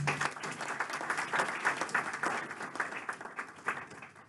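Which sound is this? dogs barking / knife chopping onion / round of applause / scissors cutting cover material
round of applause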